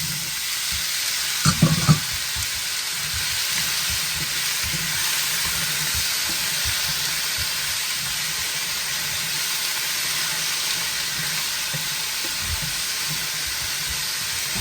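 Potatoes fry in hot oil in a pan alongside garlic, a steady even sizzle and hiss throughout, with a brief clatter near the start as they drop in.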